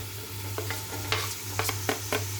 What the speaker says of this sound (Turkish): Şöyle hemen havuçlarımı da ilave edeyim.